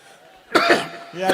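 A single sharp cough bursts out after a quiet stretch, followed by a softer throat sound near the end, close and fairly loud.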